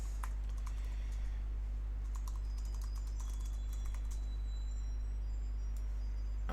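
Quick, steady clicks of fingers typing login details on a computer keyboard, close and fairly faint over a constant low electrical hum, with no talking.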